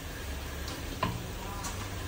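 Ground masala paste sizzles softly in hot oil in a pan for a black crab curry, a steady low frying hiss with a brief stir or clatter partway through.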